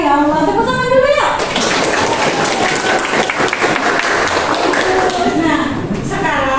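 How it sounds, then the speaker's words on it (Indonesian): Children clap together in a classroom, a burst of brisk rhythmic hand claps that starts after a teacher's spoken prompt and runs for about five seconds before her voice returns. "tepuk tangan dulu ya"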